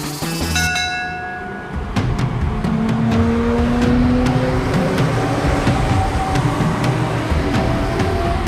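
Train at a railway station, a loud continuous rumble of rolling wheels with a bright bell ringing at the start and repeated metallic clacks over a steady roar.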